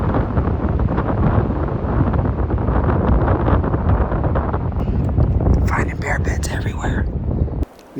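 Strong wind in Southern California bear country buffets the microphone in a dense, continuous roar, easing slightly toward the end as a few higher sounds come through.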